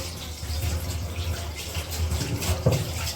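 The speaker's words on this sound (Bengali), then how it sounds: "ওই যে এখন হচ্ছে একটু পানি দিয়ে দিই" Water poured into meat in a cooking pan makes a steady, close, rushing splash that runs for about three seconds with no talking.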